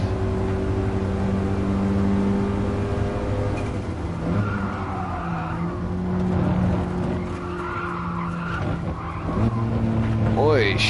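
Car tyres lock and skid under hard braking in a classic car on a racing lap, a steady engine drone with broad scraping noise and a rising squeal near the end, under speech.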